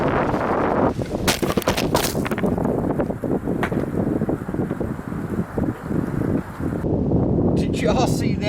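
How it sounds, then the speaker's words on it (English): A strong, cold Arctic wind gust roars across an outdoor microphone and blows a camera off a table, with loud, steady buffeting and several sharp knocks and clatters early on. "The Arctic blast just blew my camera off the table and broke it."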